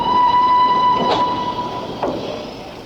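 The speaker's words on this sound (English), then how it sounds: "so that the wagons leave the retarder at precisely the right speed" Railway wagons rolling through a British marshalling yard retarder in 1961, a loud sustained squealing, ringing tone with steady rolling rumble and two brief sharp screeches, gradually fading.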